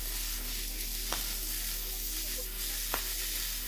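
Chopped tomato, minced garlic, parsley and spring onions in a hot pan, giving a steady close hiss of sizzling with two faint stirring clicks.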